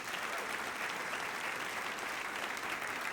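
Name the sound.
audience applause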